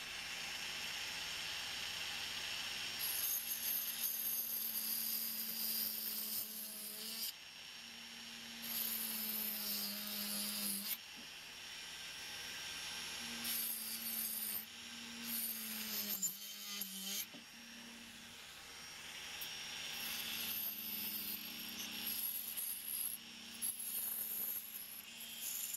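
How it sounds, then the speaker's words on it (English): A Dremel multi-tool cuts through material in a lunchbox build, a thin high whine in bursts of several seconds with short pauses between passes, fairly quiet and close, no voices. "I'll get my Dremel out. Let's Dremel it instead."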